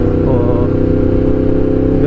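A motorcycle engine hums loud and steady at a constant cruising speed of about 60 with cruise control engaged, an even close-up drone without revving.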